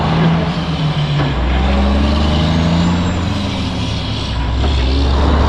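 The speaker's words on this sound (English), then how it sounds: "Real busy traffic, but the shoulder is giant." Busy highway traffic on the northern Oregon coast near Gearhart, with trucks and cars rushing past a roadside shoulder in a continuous loud roar, heavy engine rumble and a brief air-brake hiss, no voices.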